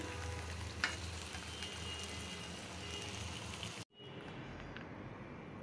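Fish bhuna sizzles steadily in oil in a pan, a soft continuous frying crackle that cuts off abruptly partway through, then resumes faintly.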